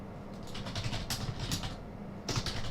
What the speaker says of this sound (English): I can't say the message, I'm in the middle of typing it.